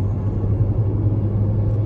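Jeep Renegade Longitude 2021 with the 1.8 Flex engine on gasoline, cruising under a light throttle on the highway; a low steady engine hum and road rumble heard from inside the cabin, with no one talking.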